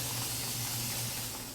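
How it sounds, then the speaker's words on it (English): A spray bottle mists water over freshly planted seedlings in a seed-starting tray, giving a single steady hiss lasting just over a second. "We will spray them to get them watered in."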